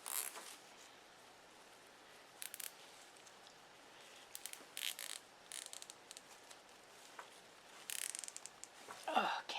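A zip tie is pulled tight through its catch, producing quick ratcheting clicks in short irregular bursts over a quiet background, close and fairly faint, with a louder rasp near the end.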